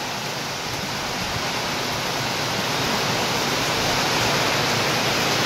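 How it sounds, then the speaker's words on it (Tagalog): Heavy rain pouring onto a house roof during a typhoon, a loud, unbroken roar of dense hiss that builds slightly over several seconds. "ang lakas ng ulan"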